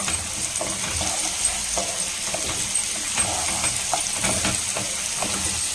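A pinch of rock salt goes into onions frying in a pan, a steady close sizzle with scattered small ticks and light stirring scrapes throughout, no voices.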